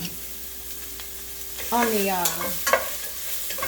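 Spinach, mushrooms and onions being stirred in a frying pan, a steady faint sizzle with a few scraping strokes of the spoon partway through, while a voice talks briefly over it.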